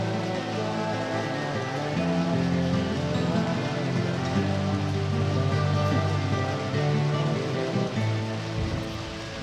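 Steady heavy rain pours throughout a Deadly Premonition Origins game scene, loud and constant, with tonal music layered underneath and no clear voices.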